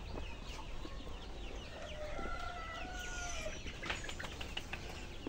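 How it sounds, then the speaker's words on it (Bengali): Desi chickens and chicks on a poultry farm cluck and chirp continuously, with wing flapping and clucks layered over a steady farmyard background, fairly close and moderately loud throughout. "এটা হচ্ছে গিয়ে শেট্টু দেশি মুরগি, শেট্টু দেশি মুরগি।"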